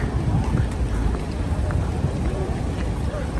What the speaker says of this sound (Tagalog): Palakas ang ulan, oh.